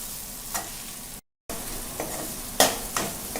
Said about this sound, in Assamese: গেছটো ল' ফ্লেমত ৰাখি এনেকৈ ভাজি আছোঁ